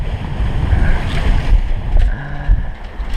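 Wind buffeting and rough seas rushing past a sailboat off Tobago in the Caribbean under reefed sail, loud and close with uneven gusty surges and no talking.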